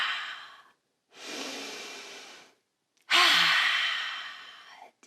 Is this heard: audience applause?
no